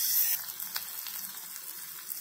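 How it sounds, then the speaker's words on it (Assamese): Coriander and cumin sizzle softly in hot oil in a kadai, a quiet, steady crackle with a few faint stirring sounds and no voices. "ভালদৰে মছলাখিনি ভাজি লোৱাৰ পিছত ইয়াত দি দিম মই"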